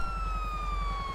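A police car siren from GTA LSPDFR wails steadily for a brief moment. The tone glides slowly downward over a low engine rumble, with no talking.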